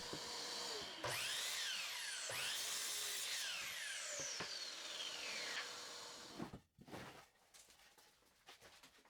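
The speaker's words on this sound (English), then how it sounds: "Back to the miter saw, I cut the 2 remaining 24-inch bars." Miter saw cutting through 24-inch wooden 2x6 bars: several loud whining cuts, each ringing down as the blade spins after a pass, followed by brief clatter and quieter handling of the boards.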